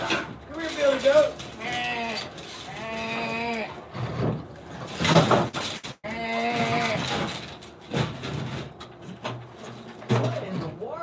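A billy goat bleats loudly and close by in several wavering, drawn-out calls, with pauses and a voice between them.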